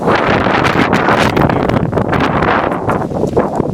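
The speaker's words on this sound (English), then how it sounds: "It's a really windy day out today." Strong wind buffeting the microphone in loud, gusty rumbles and roars, continuous with no voices.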